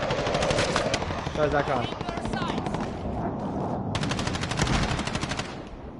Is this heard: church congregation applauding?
no